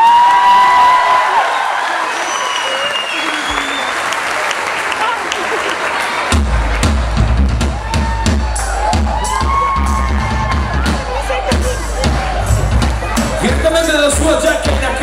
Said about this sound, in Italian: Un applauso per Mauro, per piacere.